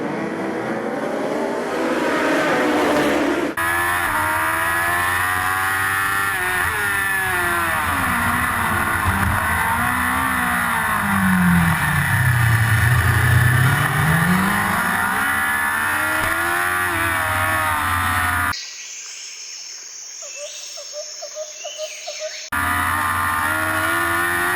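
A BMW S1000RR race superbike lapping Pembrey circuit in a 2013 MRO Powerbike race, its engine screaming close and loud as revs climb and fall through the gears, with a sweeping drop in pitch, then a brief quieter stretch before the roar returns.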